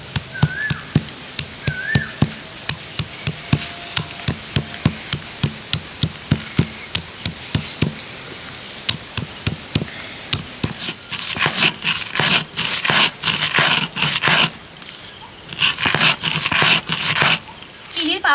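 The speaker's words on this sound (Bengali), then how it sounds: "এগুলোকে সব একসাথে আমি শিলে গুঁড়ো করে নেব।" Almonds and cardamom crushed on a flat stone grinder with a grinding stone, a long run of regular close knocks and scrapes that speed up into rapid, denser rubbing strokes toward the end.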